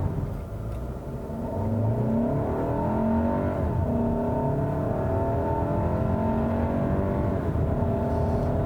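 A 2018 Volkswagen Tiguan SEL Premium SUV accelerating on the road, its engine a steady, loud drone that climbs through the gears with smooth rising pitch sweeps, heard from inside the cabin alone without talk.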